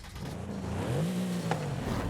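A 2021 Mercedes with a 4-litre V8 turbo, 577 hp and 800 Nm, drives in the racing game Forza Horizon 5, its engine droning loudly and rising steadily in pitch as it accelerates, with no talk over it.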